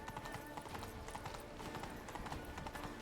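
Horse hooves gallop in the Witcher 3 video game, a fast steady clip-clop running continuously beneath a busy mix of game sounds.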